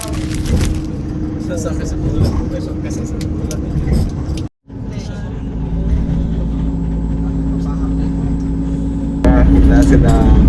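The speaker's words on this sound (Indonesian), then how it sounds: "Kita sedang berada di dalam bis." Steady engine rumble and road noise from inside a moving bus in Jakarta, with people talking throughout and a brief dropout midway before the cabin drone returns slightly louder.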